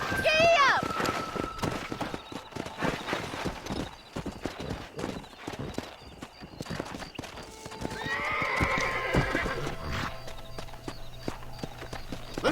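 A horse in Red Dead Redemption whinnies loudly at the start, then hoofbeats clip-clop at a steady gallop, with a second neigh later on as game music and a voice continue underneath.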